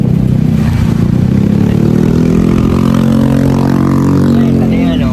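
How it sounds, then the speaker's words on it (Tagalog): Loud, unmuffled motorcycle engines rev and drone continuously on a New Year's night, close and harsh, with a rising throaty tone; voices are heard faintly amid the noise. "Ang Dami dito motor na walang ano, tambutso, ang ingay."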